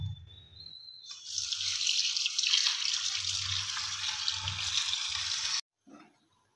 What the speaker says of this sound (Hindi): अभी इसको अच्छी तरह से धो लेंगे।